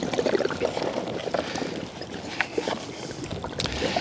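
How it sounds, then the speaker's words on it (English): Water drains out of an upturned RV water softener tank in a faint, steady trickle and gurgle with small splashy pulses, outdoors with some wind noise. "we'll just let it stand here until it finishes draining"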